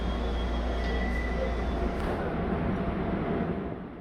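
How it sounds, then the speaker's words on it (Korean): Subway train rumbling at Dongincheon station in Incheon, a steady loud low roar with faint high squeals, fading slightly near the end. "이곳은 지하철 동인천역입니다."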